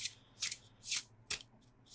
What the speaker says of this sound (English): This deck still needs to be shuffled for sure.